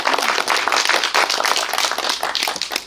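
A steady burst of applause from a cinema audience at a post-screening film talk, many hands clapping densely and continuously for a few seconds with no talking.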